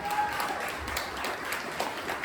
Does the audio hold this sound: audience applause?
yes